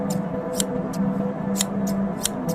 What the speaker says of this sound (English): A sewing needle, working in the dark.